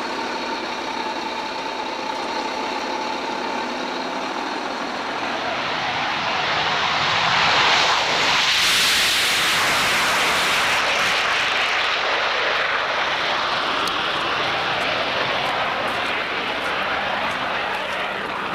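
A Saab J29 Tunnan jet aircraft passes by with a loud, broad engine roar that builds to a peak around the middle and stays strong afterward, with no talking over it.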